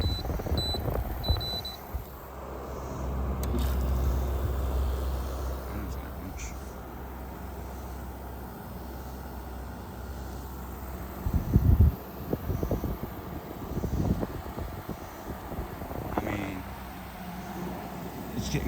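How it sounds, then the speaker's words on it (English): A GE 6420 BTU air conditioner's compressor kicks on at low setting and settles into a steady low hum with a faint fan whoosh, lasting throughout with occasional brief knocks. "Compressor start up."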